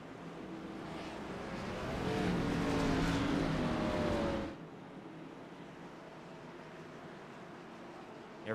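Gen 4 race cars roll behind the pace car at Bristol in a racing video game, a continuous engine drone that swells, holds for a few seconds, then cuts off abruptly to a quieter hum.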